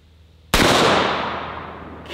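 A single close, loud .500 Magnum revolver shot firing a 440-grain lead solid gas-check bullet, a sharp blast after near silence that decays slowly over about a second and a half.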